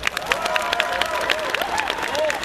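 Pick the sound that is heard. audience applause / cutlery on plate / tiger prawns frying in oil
audience applause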